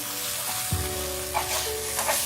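Okra masala with red chili powder, coriander powder and garam masala is stirred in a frying pan, a continuous sizzle with a few soft scraping strokes and no voices.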